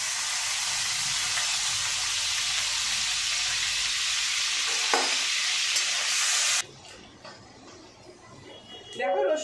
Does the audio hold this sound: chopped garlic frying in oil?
yes